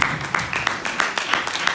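A small audience claps after a hypnosis show, a moderately loud patter of individual hand claps with a voice briefly heard underneath.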